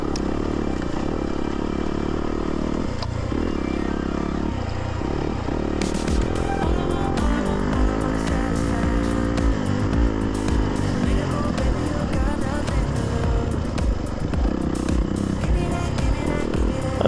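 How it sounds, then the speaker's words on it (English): A Yamaha YZ250FX dirt bike rides a wooded off-road trail, its engine revving up and down in bursts amid clattering, scraping brush and rattles, heard close from the rider throughout. "I was riding my YZ250FX."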